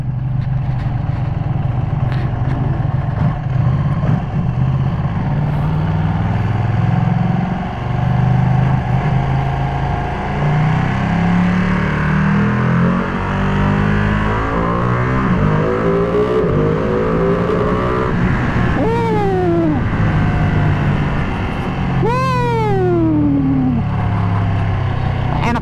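A 2021 Ducati Panigale V2 Troy Bayliss limited-edition sport motorcycle being ridden, its engine note rising and falling through gear changes with sharp revving sweeps near the end, loud and close with wind rush.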